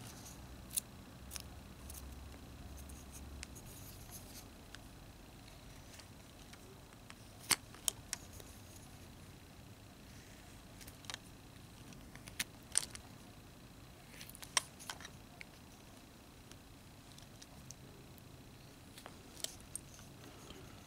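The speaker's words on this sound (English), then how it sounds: "And we come here and we cut down, and then we remove" Knife carving a small figure from a one-inch block of wood, quiet scraping with sparse sharp clicks and cuts spaced irregularly, close and faint.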